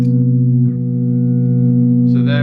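A steady, droning sustained tone holds throughout with a slight dip early on, ringing on evenly rather than cutting off, before a brighter burst near the end.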